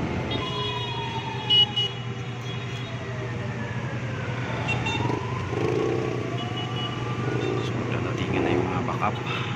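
A fire truck siren wails in rising and falling sweeps on a city street near a fire on Pasay Road, moderately close, over steady traffic rumble, with people talking at times.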